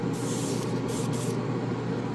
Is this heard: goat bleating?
no